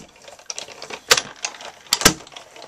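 A die cutting machine rolls through paper with a run of small clicks and mechanical rattles, punctuated by two sharper cracks near the middle and end, close and fairly quiet.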